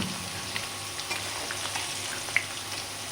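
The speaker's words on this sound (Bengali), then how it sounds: "এই যে মাছ আমার ভাজা হয়ে গেছে" Small koi fish (climbing perch) frying in hot oil in a home kitchen, a soft, even sizzle with faint crackles and one sharp pop, quiet and steady with no talking.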